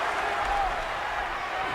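A dense wrestling crowd cheers and applauds continuously at an independent wrestling show, a loud sustained roar of the audience with talk mixed in.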